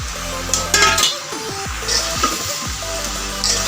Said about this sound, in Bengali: এখন এখানে আমি ভেজে রাখা চিংড়ি মাছ আর আলু দিয়ে দিব।